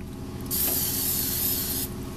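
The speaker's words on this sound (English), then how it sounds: "apply rubber cleaner aerosol to the repair area on the interior of the tire." Rubber cleaner aerosol hisses in one continuous burst of just over a second, sprayed onto the repair area on the inner liner of a tire, starting and stopping abruptly against a low workshop background.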